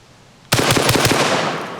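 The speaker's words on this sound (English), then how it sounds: "that was pretty fast for 4 rounds of 12 gauge shotgun shells" A Panzer M4 Speed Pro 12-gauge shotgun, a Benelli M4 clone, fires birdshot loads in a rapid burst of about four loud, sharp blasts. The shots start abruptly after a moment of quiet and echo outdoors.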